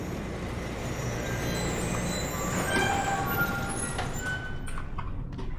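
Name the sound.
train running on a railway in Bendy and the Ink Machine video game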